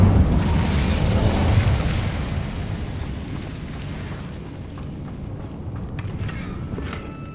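An Incendio fire spell in Hogwarts Legacy bursts with a loud, deep whoosh and boom that rolls on for several seconds, slowly fading into a low rumble with faint crackles and small pops.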